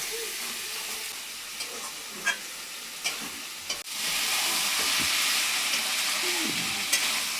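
A spice masala sautéing in a pan, with scattered stirring scrapes over a soft sizzle that jumps to a loud, steady hiss about halfway through, as if water has just hit the hot pan, then continues with occasional clinks.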